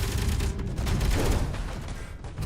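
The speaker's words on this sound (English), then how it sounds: "That's auto cannon fire." Autocannon fire in the video game Space Engineers: a dense, continuous barrage of rapid booming shots that stays loud and steady throughout, with no voices.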